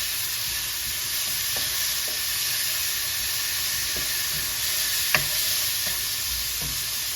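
Frozen green peas fry in a hot pan for pork fried rice, giving a steady, close sizzle and hiss with occasional light clicks of stirring. No one speaks.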